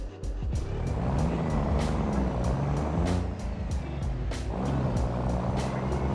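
A heavy dump truck in the BeamNG driving game at a construction site, its engine droning continuously and labouring hard at close range, with periodic high-pitched clicks or beeps repeating over the steady rumble.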